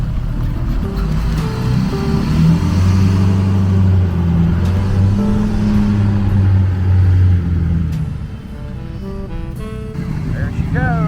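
A 1972 Volkswagen Super Beetle with a sunroof idles and pulls away, a steady low engine drone that holds loud before thinning as the car moves off, leaving faint ticking and clatter at the end.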